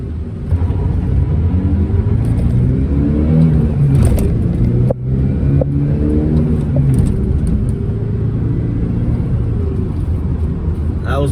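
An old, cheap pickup truck launches hard in first gear and pulls up through third, its engine roaring loudly and close, the pitch rising and falling through each gear change.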